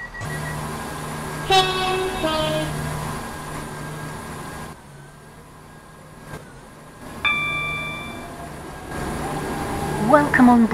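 A Roblox Stepford Connect train runs with a steady mechanical hum, sharp horn-like tones and chimes sounding at intervals, and a brief quieter stretch in the middle.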